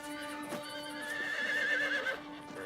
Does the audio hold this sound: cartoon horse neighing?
yes